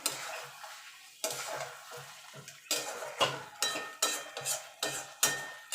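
A spoon scrapes and stirs chicken curry with ground garam masala in a metal pan, Bengali kosha style, giving a steady series of about a dozen clinking, scraping strokes with brief pauses between them and no talking.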